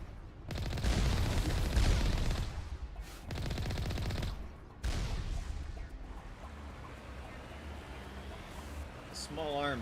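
Small arms and rocket fire in the Mass Effect video game: dense bursts of rapid gunfire with heavy booming blasts, loud and close, breaking off in short pauses before trailing into quieter combat noise.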